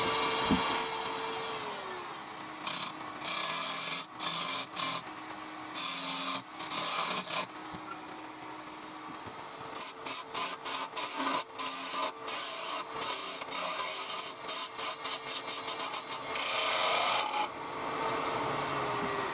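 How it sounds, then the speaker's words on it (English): Wooden knife handle being turned down on a lathe, a steady scraping, rasping cut with repeated short bursts and pauses as the tool meets the spinning wood, close and fairly loud with no talk. "I'm just going to turn the front of the handle down to the size of these calipers here."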